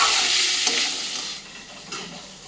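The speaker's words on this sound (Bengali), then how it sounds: "শুধু এই যে লাউয়ের খোসা ভাজাটা হচ্ছে" Gourd peels frying in mustard oil with turmeric and salt in a pan over a lowered gas flame, giving a steady close sizzle with occasional stirring scrapes that fades slightly toward the end.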